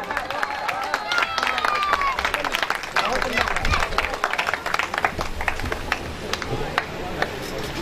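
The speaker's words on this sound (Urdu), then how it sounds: "احباب ایک بار کھڑے ہو کر زوردار تالیاں" An audience at a Multan poetry mushaira applauds with dense, steady clapping mixed with crowd murmur and scattered calls, sustained throughout.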